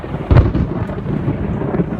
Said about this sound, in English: I said lightning and thunder hit